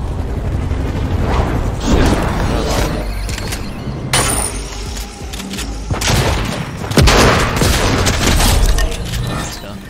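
A bomb explosion in the Fortnite video game, heard as several loud booming bursts over dense gunfire-like crackle, with a player talking throughout.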